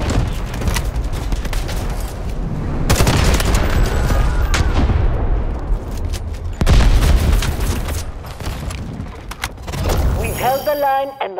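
Artillery and gunfire in the video game Delta Force: loud booming blasts and bursts of rapid shots pile up in heavy waves, with a brief lull near the end before another volley.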